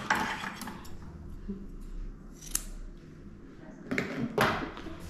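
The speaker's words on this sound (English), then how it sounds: "let's take the scissors to cut this piece off." Scissors snip through a dog's matted hair in a few quiet, separate cuts, with sharp metallic clicks spaced irregularly over a low, soft background.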